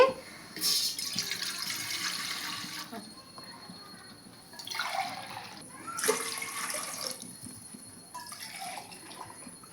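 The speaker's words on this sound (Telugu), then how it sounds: "ఒక గ్లాసు రాగి సంగ రాగి పిండి అందుకు నేను మూడు గ్లాసుల నీళ్ళు వేస్తున్నానండి" Water pours into a cooking pot in a few separate bursts, three glasses for ragi flour, splashing and gurgling, with short quiet gaps between pours.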